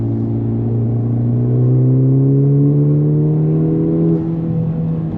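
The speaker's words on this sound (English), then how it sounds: "You can hear both the intake and the exhaust, which I really love." A Honda Civic Type R FL5 engine with a PRL stage 1 intake revs steadily, rising in pitch with a deep exhaust drone and audible intake whir, loud and close.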